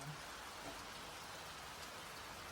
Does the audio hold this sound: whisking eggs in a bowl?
no